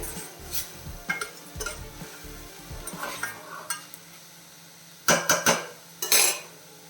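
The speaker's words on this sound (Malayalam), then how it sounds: "വേഗത്തെ ഇളക്കി കൊടുത്തോണേ" Cheera thoran is stirred in a pan, with repeated close scraping and clattering of a spoon against the metal, brief bursts of stirring, and a soft sizzle between them.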